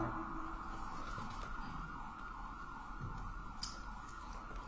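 An emergency vehicle siren wails outside a Denver courtroom, a faint, distant, continuous tone beneath a low room hum, with no talking.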